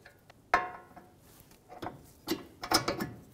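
A ratchet runs nuts onto the front knuckle bolts of a 2003-2008 Honda Pilot during a wheel bearing replacement, giving short, quiet, irregular bursts of metallic clicking close by.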